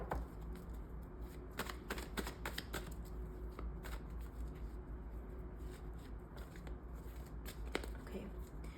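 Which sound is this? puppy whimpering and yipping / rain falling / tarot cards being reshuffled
tarot cards being reshuffled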